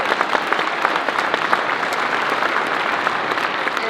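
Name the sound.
audience applause at a debate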